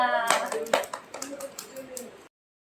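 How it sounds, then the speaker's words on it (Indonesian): A short burst of scattered hand claps from a few people, with a voice and some cheering mixed in, ending abruptly. "Yeay, tepuk tangan untuk kita semua."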